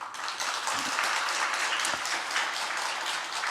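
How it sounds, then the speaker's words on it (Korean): A church congregation claps in congratulation during a service, an even, steady wash of applause from many hands filling the sanctuary, moderately quiet and unbroken throughout. "여러분이 축하의 박수를 해주시기 바랍니다"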